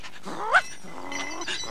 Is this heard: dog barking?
yes